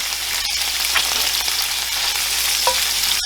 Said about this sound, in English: I'm gonna get my onions into that fatty goodness in the bottom there